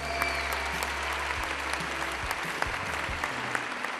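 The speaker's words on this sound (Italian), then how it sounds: "Fate ancora un applauso enorme a loro" An audience at a contemporary dance school's recital claps for the young dancers, dense continuous applause with scattered sharper claps, moderately loud and without speech.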